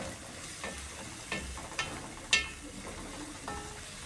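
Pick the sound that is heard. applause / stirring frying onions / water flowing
stirring frying onions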